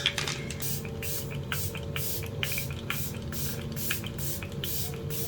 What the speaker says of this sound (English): when you do a little setting spray